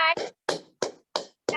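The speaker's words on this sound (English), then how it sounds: "Okay, once again, clap for yourself. Put a pat." Hands give several short, evenly spaced clap-like slaps, roughly five in a steady rhythm, close and fairly loud, following a brief voiced sound at the start.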